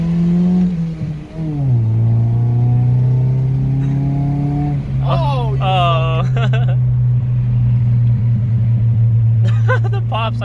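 A Honda S2000 fitted with Federal SS595 tires revs up close by, its steady engine drone rising and holding while exhaust pops crackle in bursts; voices speak over it.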